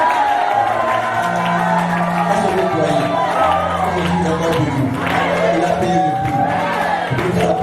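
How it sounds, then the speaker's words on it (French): Church congregation at a revival meeting shouting and crying out with joy, a loud sustained crowd roar of whoops and cheers with an organ or keyboard chord underneath throughout. "Poussez les cris de joie."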